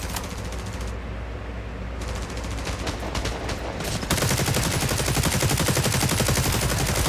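Rapid gunfire from a weapon in the video game The Division Resurgence, sharp repeated shots in dense bursts that grow louder and continuous in the second half, with no talking.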